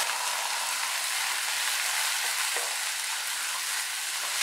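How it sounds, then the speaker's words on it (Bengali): Potatoes frying with chopped onions in hot oil give a steady, bright, close sizzle that holds evenly throughout, with a couple of faint stirring scrapes and no voices. "আলুটা দিয়ে কিছুক্ষণ নাড়াচাড়া করব"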